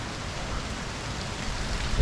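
Steady rain pours down during Hurricane Ian, a dense, even hiss of drops on wet ground and water, close and continuous with no voices.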